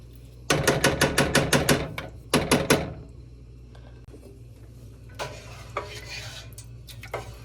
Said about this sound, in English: Gonna mix everything nicely so the seasoning mixes.